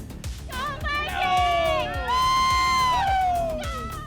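A huge crowd cheers and whoops at an NFL draft party celebration in Detroit, with sustained shouting, rising and falling excited cries, and loud roaring voices across the whole stretch.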